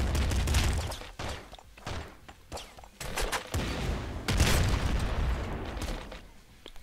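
Repeated explosive blasts from a cluster launcher in the game Nuclear Throne, a dense run of booms and pops firing in quick bursts with brief gaps, loud and close throughout.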